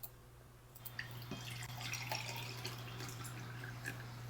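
Water is poured into a container for a school science experiment on mixtures, a soft trickle with small splashy drips over a steady low hum, no voices.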